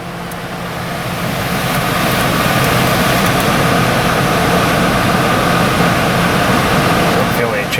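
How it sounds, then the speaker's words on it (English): The under-hood cooling fan of a Mitsubishi Outlander makes a loud, steady whooshing roar over a low engine hum, swelling during the first couple of seconds and then holding constant. "I hear the fan kick on under the hood"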